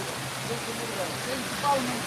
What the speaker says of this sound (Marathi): जबरदस्त खूप मोठा पाऊस